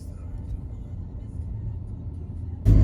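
A car is driven along a road in Italy, heard from inside as a steady low engine and tire rumble, close and constant, ending in a sudden louder thump.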